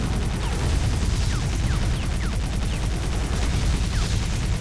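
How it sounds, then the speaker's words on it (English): Machine gun fire in 007 Nightfire rattles on loud and continuous, with dense rapid shots filling the whole stretch. "Maybe I should switch over to my machine gun for the moment and just save my rockets."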